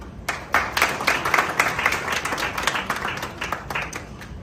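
An audience claps in warm applause at an airport welcome for Nick Danso at Prempeh II International Airport, a dense, moderately close patter of many hands rising and falling without voices.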